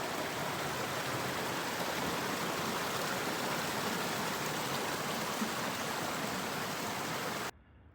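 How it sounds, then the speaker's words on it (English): Water rushes down through boulders in a mountain stream on a glacier trail, a loud continuous broadband roar that stays steady, then cuts off sharply near the end. "There's the water running down through the boulders there."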